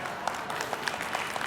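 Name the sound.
keynote audience clapping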